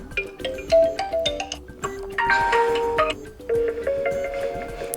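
A bright electronic ringtone melody plays on an OPPO A33 2020 phone, quick plucked notes shifting into a brighter chiming phrase, clear and close with no talking.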